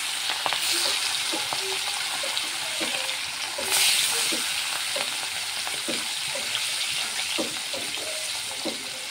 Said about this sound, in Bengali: মাছগুলো ভালো করে ভেজে নিতে হবে।